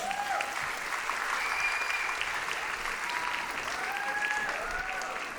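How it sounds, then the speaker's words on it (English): Steady, continuous applause from a large audience at a Bollywood dance show, moderately loud, with a few whistles and cheers rising over the clapping. "A round of applause, please."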